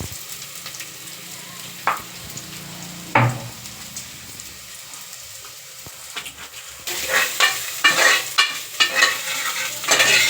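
Garlic drops into hot oil in a pan and sizzles, with a few sharp utensil knocks early on and louder stirring scrapes and crackling frying toward the end, close by and without talk.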